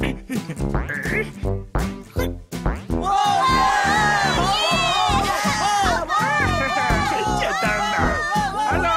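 Audience at a cartoon circus breaks into loud, sustained cheering and applause with excited shouts, after a few seconds of speech, then continuing dense and steady to the end.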